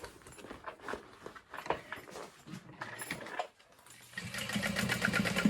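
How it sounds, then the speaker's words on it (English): A sewing machine bastes a seam on a vinyl organizer bin, quiet, rapid mechanical whirring in short bursts with brief pauses, then a steadier, busier run of stitching at the end. "So I went ahead and flattened that seam so it's not so bulky, and just continued basting in place."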